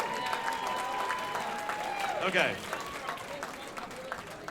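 Audience applause at a crowded celebration in an Elks lodge in Lawrence, Massachusetts: a steady wash of clapping throughout, swelling briefly near the middle, with a voice speaking over it.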